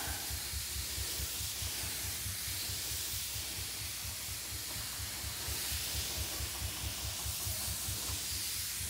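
A pesticide sprayer mists beans in a garden with a continuous close hiss. A rapid rhythmic low pulsing, like a pump or motor, runs steadily underneath throughout, and nobody talks.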